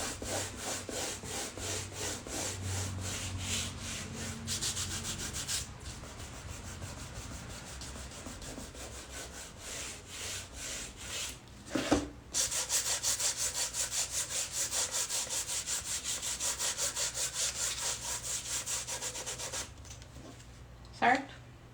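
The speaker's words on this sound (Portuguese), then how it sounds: "E aí a gente lixa na quantidade que a gente vai gostando" Sandpaper rubbed by hand over a wooden makeup box lid, producing long stretches of close, rhythmic scratchy strokes with a few brief pauses and knocks, and a voice talking faintly at times.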